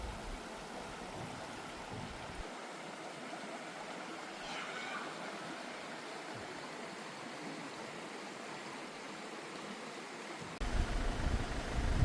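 Mountain stream in Deokpung Valley, Samcheok, a steady rushing, broadband water flow heard continuously and evenly from a moderate distance, rising slightly louder near the end, with no talking.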